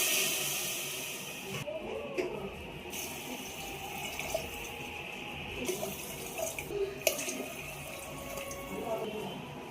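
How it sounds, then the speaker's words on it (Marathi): Water poured into a cooking pot while preparing Maharashtrian chakolya, a steady hissing splash that runs continuously at moderate volume, with a few brief clinks and a momentary dip in the flow. "तर इथे मी एकूण साडेचार ग्लास इथं पाणी टाकले आहे"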